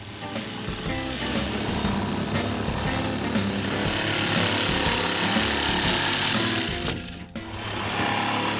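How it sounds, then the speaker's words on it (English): Jigsaw cutting away garden shed siding, a loud buzzing reciprocating blade with rapid rattling chatter, running steadily with a brief pause near the end. "insert a jigsaw into the holes and begin cutting away the siding"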